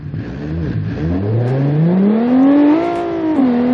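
Kleinhammer R1 Basic sports car engine in BeamNG accelerating hard, its tone climbing steadily through the revs with a brief dip at a gear change near the end, loud and close.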